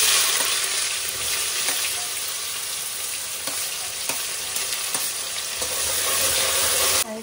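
Onions tossed into a hot frying pan with cumin and bay leaf, sizzling loudly and continuously up close, with occasional light stirring scrapes and no voices.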